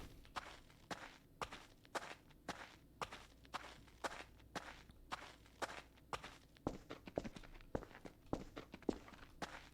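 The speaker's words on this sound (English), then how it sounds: "Sound like Half-Life footsteps there." Footsteps in The Stanley Parable video game, a steady run of distinct, evenly spaced steps throughout, quickening slightly toward the end, with no talk over them.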